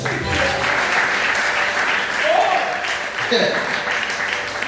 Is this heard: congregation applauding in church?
yes